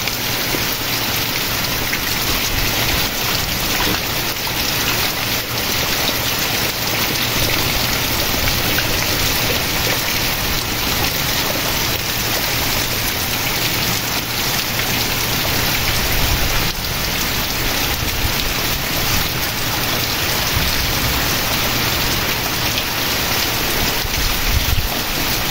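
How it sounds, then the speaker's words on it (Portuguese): Heavy rain pours steadily in the Pernambuco sertão, a dense continuous hiss of drops on surfaces that stays loud and close throughout, with no talk. "Chuva boa para refrescar o sertão."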